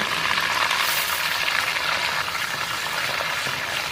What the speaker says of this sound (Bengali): তেলের মধ্যে দিয়ে দিচ্ছি একটু 5 ফোড়ন।